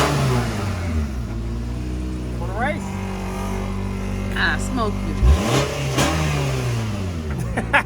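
A Nissan engine with an exhaust leak revs repeatedly, climbing and dropping in several loud sweeps up close while a person speaks briefly over it.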